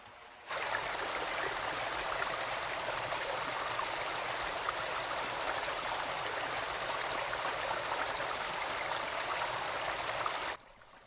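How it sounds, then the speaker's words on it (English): Water flows steadily across dry sandy creek beds in the Australian outback, a constant even rush that starts abruptly and continues without a break until it stops near the end. "the water creeps quietly inland, filling hundreds of dry waterways"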